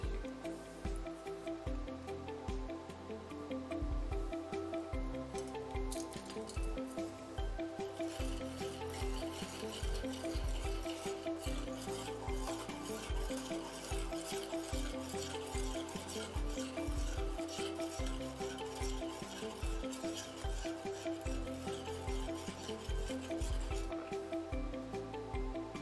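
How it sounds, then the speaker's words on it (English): A spoon stirs salt into a bowl of water, a steady scraping swirl that runs continuously at close range with no talking. "we choose one of the salts and we dissolve a spoon into the bowl"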